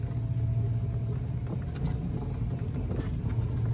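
A 2014 Club Car Precedent electric golf cart on a lithium battery rolls along slowly, giving a steady low rumble with faint motor whine and some rattling bumps, heard close from the seat with no voices.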